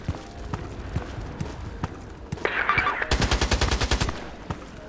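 MP-133 pump shotgun in the shooter game Contract Wars, firing in sharp booming blasts amid a stretch of rapid rattling gunfire, with loud close shots and faint background clatter.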